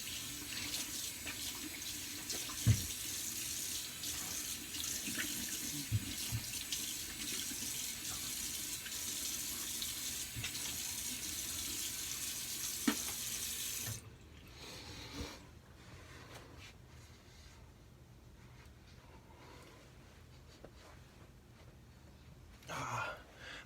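A bathroom tap runs steadily into a sink while alum is rinsed off the face after shaving, a loud hiss that stops about halfway, leaving quieter handling noises and faint movement.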